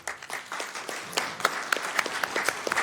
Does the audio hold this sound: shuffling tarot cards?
no